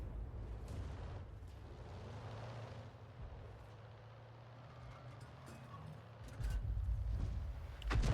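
An enemy AMX-13 F3 self-propelled gun fires in World of Tanks, heard under a low engine rumble: a muffled, distant-sounding blast swells late on, then another thump hits right at the end.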